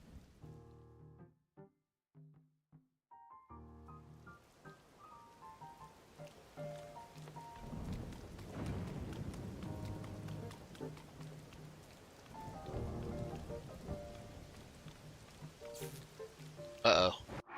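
Rain falling in the Zelda Tears of the Kingdom video game, a steady patter on surfaces under soft game music, growing denser partway through and ending with a brief sharp sound.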